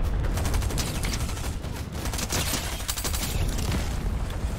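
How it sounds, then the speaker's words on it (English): Dense rapid gunfire from a Fortnite match, a continuous fusillade of overlapping shots and booms filling the whole stretch at steady loudness. "Hold on, somebody shooting over."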